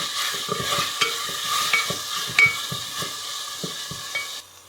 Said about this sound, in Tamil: தக்காளி நல்லா மசிகிற வரைக்கும் வதக்கணும்.